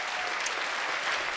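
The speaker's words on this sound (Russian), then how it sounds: "Аплодисменты." Studio audience applause on a televised music quiz show, a brief, dense burst of clapping at steady volume.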